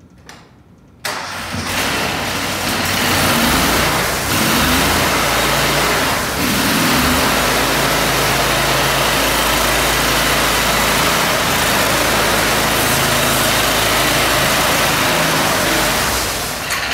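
A Honda GX690 engine on a 36-inch HW690 commercial ride-on concrete power trowel starts after a brief quiet moment, then runs loud and steady at high revs throughout, close up with no talk.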